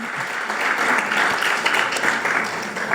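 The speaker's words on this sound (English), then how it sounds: "Another big round of applause for both of them" An audience at a weekend spiritual retreat session breaks into sustained applause. The clapping is steady and dense and continues through the whole stretch, with no clear speech above it.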